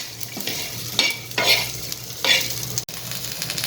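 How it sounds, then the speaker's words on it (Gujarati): Sesame seeds, cumin and salt sauté in a hot pan for a Maharashtrian thecha, giving a steady low sizzle broken by several scraping stirs and one brief clunk. "ફરીથી 1 મિનિટ માટે આપણે સાતળી લઈશું."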